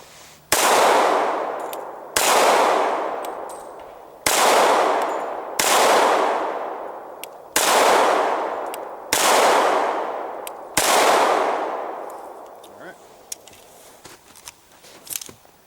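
A SIG 220 pistol fired in 9mm and .45 at a shooting range: six loud, sharp gunshots spaced about one and a half to two seconds apart, each with a short ringing decay, followed by quieter handling clicks.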